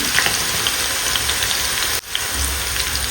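Onions frying in hot oil over a low gas flame, added a little at a time, give a steady broadband sizzle that runs throughout, with a brief dip partway through before it resumes.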